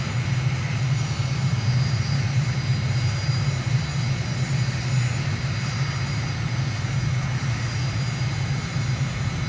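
Steady, loud airliner jet engine drone on landing approach in Microsoft Flight Simulator, a continuous low rumble with hiss above that holds unbroken, with no talking.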